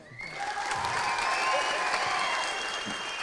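An audience at a Tamil film audio launch event breaks into sustained applause, a dense wash of clapping that swells quickly and holds steady for several seconds.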